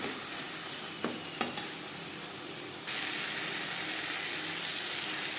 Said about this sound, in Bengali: একটু টমেটো ম্যাশ করে দেবো